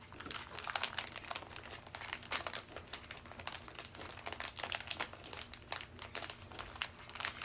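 Quiet, continuous crinkling and rustling of paper stationery being pulled apart by hand to make small envelopes, with dense small crackles throughout and no talk.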